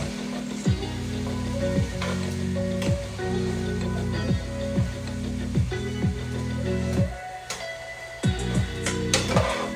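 Chopped carrots and other vegetables sizzle steadily in a hot pan during a chicken stir fry, a continuous crackling hiss with repeated scraping stir strokes in a regular rhythm.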